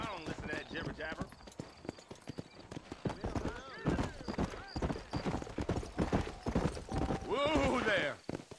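Horse hooves clip-clop in steady rhythm in Red Dead Redemption, mostly under continuous conversation between men, with a horse whinnying near the end.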